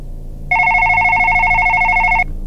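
A telephone rings very loudly and close: one long electronic trilling burst with a rapid warble, cutting in suddenly and stopping abruptly over a quiet room.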